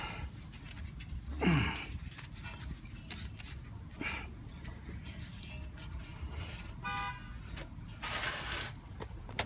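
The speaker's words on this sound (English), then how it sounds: "I don't know who's honking, but it ain't for me." A car horn honks briefly in the distance amid outdoor background noise, with a few other short tones and rustling sounds.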